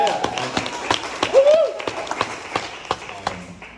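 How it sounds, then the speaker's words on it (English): An audience at a mental health night event gives a round of applause, scattered claps ringing out at a moderate distance, with a brief voice and a whoop partway through. "Can we just give another round of applause?"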